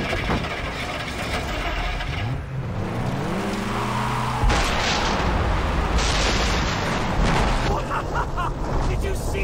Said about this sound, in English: Did you see that explosion? What? Something exploded!